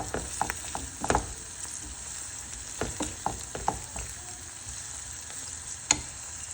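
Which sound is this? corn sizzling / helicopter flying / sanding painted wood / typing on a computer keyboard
corn sizzling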